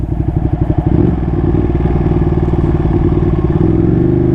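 Ducati Panigale 959 sportbike being ridden, a steady loud mid-pitched engine drone with a rapid throbbing pulse, close up and continuous without talk.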